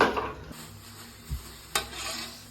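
Mustard seeds sizzle in hot oil with a steady soft crackling hiss, broken by a few light metallic clinks and knocks of a utensil against the pan.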